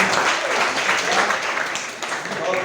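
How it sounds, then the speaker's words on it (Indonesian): Audience at a teachers' jamboree session applauds the winners, a short burst of dense clapping from a room of people, fairly loud and continuous. "Kasih tepuk tangan buat teman-teman."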